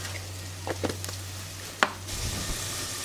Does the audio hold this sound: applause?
no